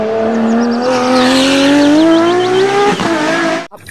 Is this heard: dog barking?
no